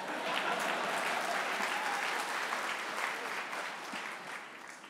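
An audience at the GLAAD Media Awards applauds warmly and steadily, with the clapping fading slightly toward the end.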